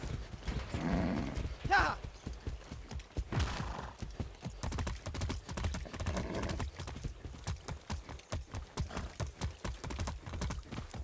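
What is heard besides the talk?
horse hooves trotting in video game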